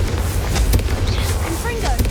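Confringo, a fire blast spell cast in Hogwarts Legacy, sounds as loud crackling bursts and thumps, with fiery whooshes and small whistling tones over continuous game noise, partly under spoken voice.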